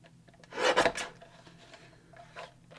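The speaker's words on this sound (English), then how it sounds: "Now I'm taking out my guillotine trimmer and I'm just gonna trim off the sides of this" A guillotine paper trimmer slicing the sides off a card panel, one close rasping sweep of the blade lasting about half a second, followed by a fainter scrape, with no voices.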